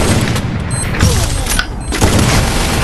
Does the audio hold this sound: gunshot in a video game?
yes